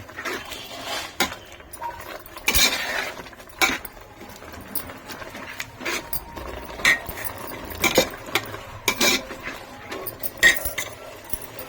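A spoon stirs vermicelli into milk in a metal pot while a sweet dish is being made. Irregular sharp clinks and scrapes of utensil on pot come close and fairly loud.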